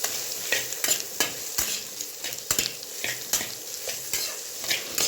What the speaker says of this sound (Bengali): এবার সব মশলাগুলিকে আমরা সুন্দরভাবে মিশিয়ে নেব চোলার সঙ্গে